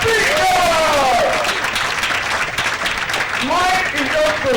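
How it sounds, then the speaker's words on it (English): An audience at a women's conference applauds its speakers with steady, close clapping throughout, and a few voices call out over the applause. "do please give a round of applause to all our speakers"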